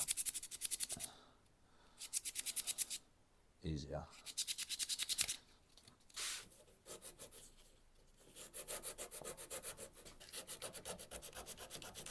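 Hand sanding of a Victorian wooden table with a small cut piece of sandpaper, heard as close, rhythmic rasping strokes in quick bursts separated by short pauses, fairly quiet overall.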